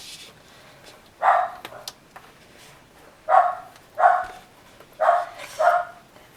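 A dog barks in short separate bursts, one bark and then pairs and singles spaced across the stretch, fairly close and loud against a quiet background while it waits to be fed.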